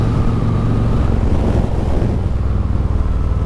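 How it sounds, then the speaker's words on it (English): Heavy wind roars over the microphone while riding a Harley-Davidson Road King motorcycle, a loud constant low rumble and buffeting that masks any other sound. "It's quite windy out here."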